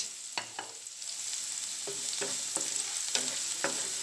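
Chopped green chillies stir-frying in a pan for capsicum noodles, a steady loud sizzle broken by repeated spatula scrapes and taps in an irregular rhythm, close up with no voices.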